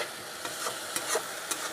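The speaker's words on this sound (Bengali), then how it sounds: "মশলাটাকে বন্ধুরা আমি এখন কষিয়ে নেব একটু।" Spice paste frying in a pan for aloo fulkopir dalna, a Bengali cauliflower and potato curry, with a steady soft sizzle and occasional stirring scrapes close by.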